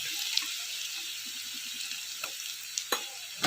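Garlic frying in oil with turmeric and red chili powder, a soft steady sizzle under a few sharp clinks and scrapes of a utensil against the pan, close by.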